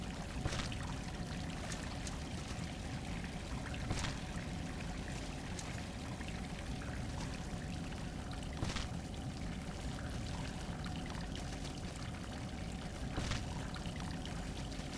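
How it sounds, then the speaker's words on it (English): Water spills steadily off platforms in Salt and Sanctuary, a constant pouring wash with a trickling, dribbling texture, fairly faint and unbroken, with a few soft taps standing out now and then and no talking. "So you can see that water falling off or whatever that is."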